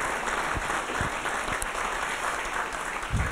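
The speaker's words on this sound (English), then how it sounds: "You guys give a round of applause to the panel and the moderators." A symposium audience gives a panel and its moderators a round of applause, with steady, dense clapping from a full room lasting throughout.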